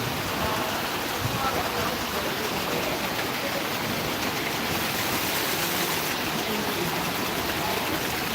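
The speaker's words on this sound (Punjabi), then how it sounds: "ਬਹੁਤ ਭਾਰੀ ਬਰਸਾਤ ਆ ਜੀ" Heavy monsoon rain in a Punjab village pours down in a dense, steady hiss that fills the whole scene, continuous and loud with no pauses.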